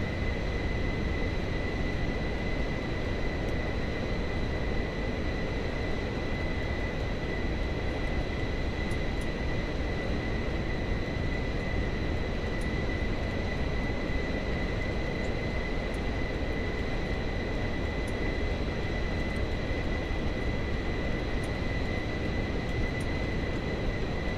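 Pilatus PC-24 jet engines in Microsoft Flight Simulator 2024 give a steady broadband roar with a constant high whine, holding at an even, moderate level throughout with no talk.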